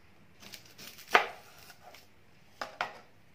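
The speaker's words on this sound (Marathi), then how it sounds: "तर कांद्यांची सालं आहेत ती काढून घ्यायची आहेत, कट करून घ्यायचे" White onions are sliced with a knife on a board, giving a few sharp, close cutting thuds with quiet gaps between them, including one louder chop near the middle and two more toward the end.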